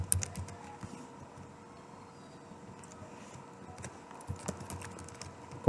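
Fingers tap out data on a computer keyboard, a run of quick, close keystrokes in uneven bursts with short pauses, a few sharper clacks near the end, no talking.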